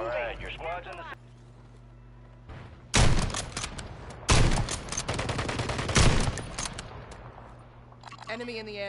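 Video game battle royale gunfire in bursts of sharp rapid shots from about 3 to 6 seconds, loud and near, with a voice talking before and after the firing.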